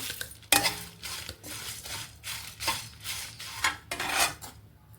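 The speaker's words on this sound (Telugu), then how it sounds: "మిరపకాయలు వేస్తున్నానండి." Dried chillies are stirred in a metal frying pan while making bendakaya kutu podi fry, a spoon scraping and clinking against the pan in quiet, repeated strokes with a faint sizzle, no talk.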